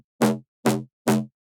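A synth wobble bass top layer played with sync warp mode engaged, adding brightness to the high end. Three evenly spaced, harmonically dense stabs follow one after another, separated by short silences.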